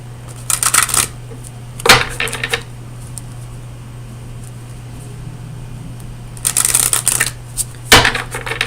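Oracle of Visions tarot cards are shuffled in loud, riffling bursts close to the microphone, arriving as several separate rounds with a steady hum beneath them.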